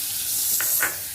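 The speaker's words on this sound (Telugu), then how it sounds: "స్టవ్ ఆన్ చేసుకొని ఇంట్లో వచ్చేసి ఫస్ట్ బటర్ వేసుకుందాం" Butter sizzles in a hot pan on a stove, a soft steady hiss with a couple of faint crackling flares, close and alone.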